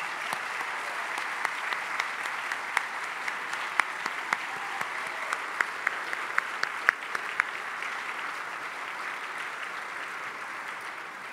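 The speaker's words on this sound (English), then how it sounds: "Let's give them a round of applause." Banquet guests at the ThrillerFest awards dinner give a round of applause, a steady, moderately distant wash of clapping lasting the whole stretch, with a few sharper individual claps standing out.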